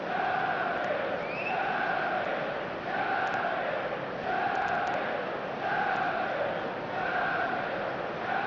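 A stadium crowd at a Manchester United match in EA Sports FC, a loud rhythmic chant rising and falling in regular waves, steady and distant-sounding like a full stand singing together.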